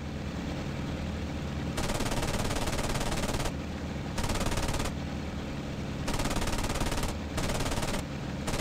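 Aircraft machine guns in the WWII combat flight sim IL-2 Sturmovik, firing in sustained loud bursts that start and stop repeatedly over a steady engine drone.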